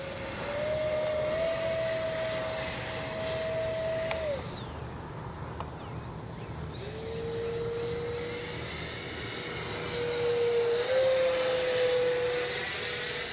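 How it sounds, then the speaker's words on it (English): An FMS 64mm Rafale RC jet flies overhead with a continuous electric ducted-fan whine whose pitch rises and falls with throttle changes, the roar swelling and easing as it passes. "Good flying jet right there."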